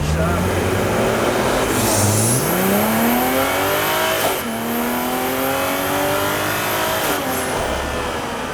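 A Toyota Supra accelerates hard through a full pull, its engine note rising loud and close, briefly dipping at a gear change before climbing again, with a high whine riding over the roar.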